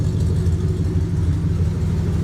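A 2000 GMC Sierra pickup's exhaust after a Y-pipe swap rumbles at a steady, throaty idle, deep and close with an even low pulse throughout.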